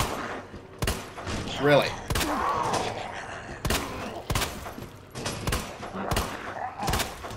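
Sharp gunshots in the game Resident Evil 2 ring out in an uneven series of about eight bursts, with a short spoken remark and grunting game sounds in between.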